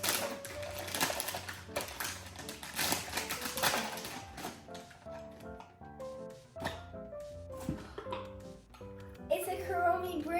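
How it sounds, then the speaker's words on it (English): A gift box is shaken with something metal, a bracelet and necklace, rattling inside, giving busy close rattling clatter under a voice with faint music underneath. "It has something metally,"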